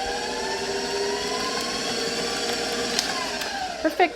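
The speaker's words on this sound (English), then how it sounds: "And just one little mix again, just quick, just to incorporate the eggs." Electric hand mixer whirring steadily for a few seconds as it briefly blends eggs into wet blueberry peach yoghurt muffin batter, a continuous close motor hum with a couple of small knocks near the end.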